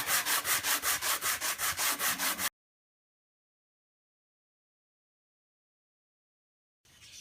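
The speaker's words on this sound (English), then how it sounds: "that's why I switched to the big sandpaper" Hand sanding a very hard spot on wood with coarse sandpaper, about a dozen rapid, rhythmic rasping strokes close up, then silence and a brief sound at the end.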